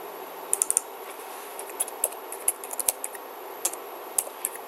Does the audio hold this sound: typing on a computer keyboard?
yes